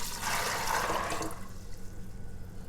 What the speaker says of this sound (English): I'm gonna go ahead and add 6 cups of water.